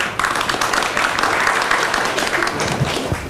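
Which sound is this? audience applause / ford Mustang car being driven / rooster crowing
audience applause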